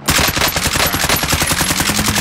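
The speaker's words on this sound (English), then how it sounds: "shooting over at me from that left side" Rapid automatic gunfire in Call of Duty: Modern Warfare, a loud, dense burst of repeated shots running unbroken for a couple of seconds with no talk over it.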